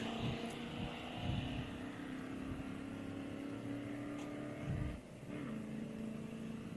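Drag racing trucks accelerate, engines droning steadily at a distance with a clear pitch drop and recovery as gears shift, a continuous mechanical roar.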